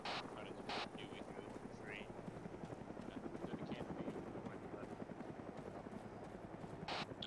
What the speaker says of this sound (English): I hear that helicopter.